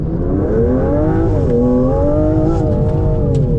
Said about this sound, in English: Got it in manual mode, stability control is still off, full throttle.